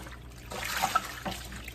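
Water runs and trickles from a tap or into a basin while items are washed, a short splashing flow with small bursts, no talking.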